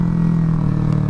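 Motorcycle fitted with a new aftermarket exhaust at high speed, a loud steady low engine drone with a droning hum and wind rush, no pauses.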